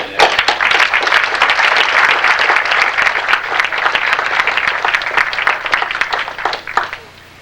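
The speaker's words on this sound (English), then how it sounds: "Round of applause for all the volunteers coming in." Audience applause at a youth gala as volunteers come in: steady, full clapping from a crowd that holds strong throughout, then tapers off at the very end.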